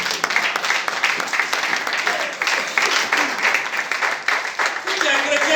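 A church congregation applauds during a French-language sermon, with sustained, dense clapping filling the room at close range and a voice rising over it.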